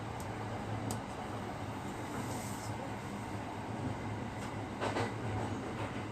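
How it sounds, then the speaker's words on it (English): The Marine Liner train near Takamatsu, Japan, rumbles steadily along the rails with a continuous low roar and occasional faint metallic clicks and squeals. "The train goes to the left here."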